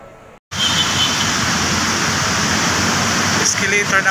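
Water pours steadily down a decorative water feature beside an escalator inside SM Aura mall in Taguig City, a close, continuous rushing hiss that starts abruptly after a brief quiet moment.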